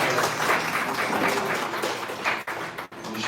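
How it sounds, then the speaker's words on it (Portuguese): Applause from an audience at a cultural honors ceremony in Goiás, a dense burst of clapping that carries on briefly and thins out near the end. "Salve de palmas."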